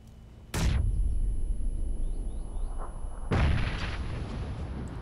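Two grenade blasts in PUBG, each a sudden loud boom with a decaying rumble, the first near the start and the second a few seconds later, with faint chirping in between.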